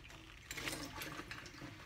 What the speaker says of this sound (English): There's warm water running through now.